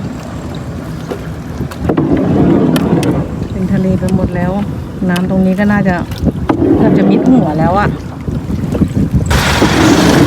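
Wind buffets the microphone steadily while a small plastic boat carrying three people rides floodwater over a school grounds in Sam Chuk, Suphan Buri, with someone talking over it nearly throughout.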